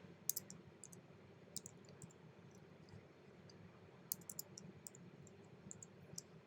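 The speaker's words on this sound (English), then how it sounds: "I'm going to type out the word cyan." Typing on a computer keyboard comes through as faint, sparse clicks in small clusters over a quiet background hum.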